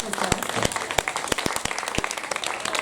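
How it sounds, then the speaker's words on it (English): A room full of people claps, a dense crackle of applause with several sharp, close hand claps standing out. "can we just give a round of applause to our panel?"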